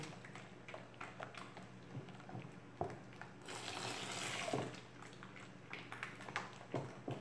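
Boiled water pours into a container while homemade liquid soap is made, a faint gushing stream that builds to a fuller splashing rush midway, with scattered knocks and handling noises around it.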